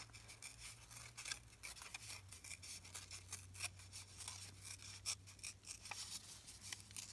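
Fabric torn by hand for Christmas embellishments, heard as a steady run of dry, scratchy tearing and rubbing across the whole stretch, close and fairly quiet, with a low hum underneath and no voices.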